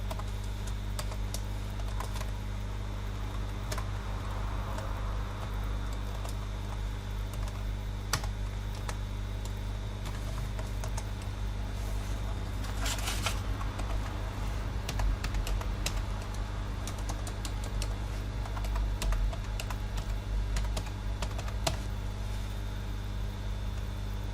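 Computer keys click in scattered bursts, close and fairly soft, over a steady low hum, with no talking.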